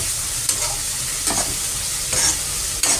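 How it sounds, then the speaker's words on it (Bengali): Potatoes fry in a pan with a continuous, close sizzle, punctuated by about four spoon scrapes and clinks against the pan. No one talks. "এই যে আলুটা আমি ভেজে নিচ্ছি"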